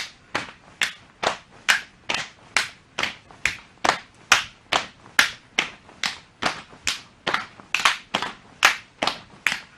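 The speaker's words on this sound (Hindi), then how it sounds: "पैरों को एक साथ खोलना है और साथ में सिर के ऊपर ताली बजानी है।" Hands clapping overhead during jumping jacks in an exercise session, about twenty crisp, evenly spaced single claps in a steady rhythm, close and clear with quiet gaps between them.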